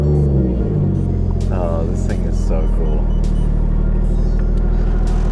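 A 1JZ engine in a 90s Toyota Cressida cranks and fires, then settles into a steady, deep idle rumble, close by, while a person speaks excitedly over it.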